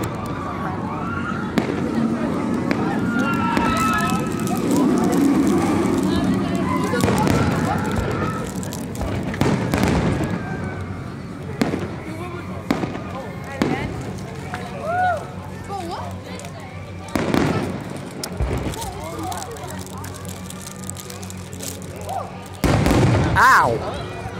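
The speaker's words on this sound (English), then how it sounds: "I love that the explosions are super delayed." Fireworks over SeaWorld at night, a run of deep booms and sharp cracks, some close and loud and others distant, with a crowd talking and cheering throughout.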